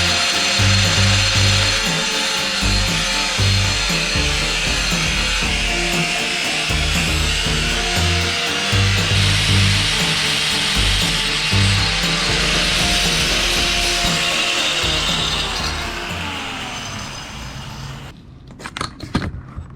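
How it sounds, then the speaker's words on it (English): Continuous saw cutting through a metal fuel gauge bracket for a boat tank, loud and steady for most of the stretch, then trailing off into a few clanks near the end with no talking. "I'm going to cut this bracket here at half the depth of the tank plus a ½ inch"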